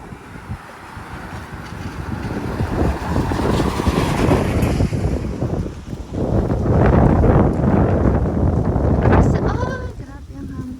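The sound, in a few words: strong wind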